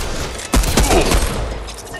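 Pistol gunfire in the Fortnite battle royale game: a quick burst of several sharp, loud shots close together, with a voice talking underneath.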